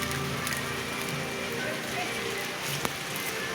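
Steady rain falling in the Philippines, a dense continuous patter and hiss that stays even and moderately loud throughout, with faint voices underneath.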